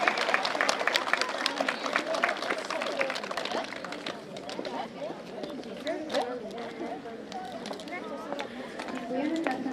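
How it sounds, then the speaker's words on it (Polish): Parents and pupils at a school start-of-year ceremony clap for the first-graders, a steady patter of applause mixed with a murmuring crowd and scattered voices throughout. "Poprosimy jeszcze raz wielkie brawa dla pierwszaków"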